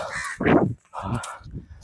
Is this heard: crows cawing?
yes